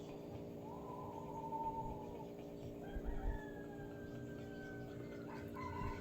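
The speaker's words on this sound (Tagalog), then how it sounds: "Nanituktuga ako ang manok anak." A rooster crows in the distance, one long drawn-out call followed by a second rising crow, over a steady background hum on a hot afternoon.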